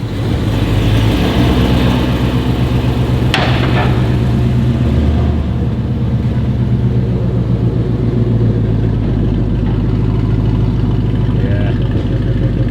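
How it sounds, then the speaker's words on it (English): A Ford Mustang engine making about 800 horsepower idles with a deep, loud rumble close by, its steady low throb lasting throughout after a brief sharp click. "It's a very proper sounding Mustang just arrived as well."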